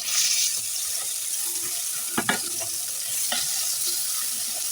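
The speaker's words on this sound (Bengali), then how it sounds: "তো মাছটাকে আমি হালকা হলুদ মরিচ লবণ দিয়ে হালকা করে ভেজে নেব" Koi fish seasoned with turmeric, chili and salt frying in hot oil, a steady loud sizzle with a few clattering stirs and scrapes partway through.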